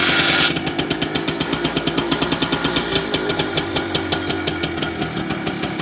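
An old motorbike engine, one of two bikes being brought back to life, runs steadily with a loud, rapid knocking beat after a brief initial burst, close and alone.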